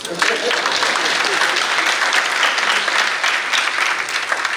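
A large conference audience at a forum claps steadily and loudly, a dense continuous wash of applause from start to finish.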